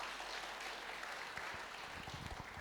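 Congregation applauding during a church service, a steady wash of clapping from many hands heard at moderate distance, continuous with no clear breaks.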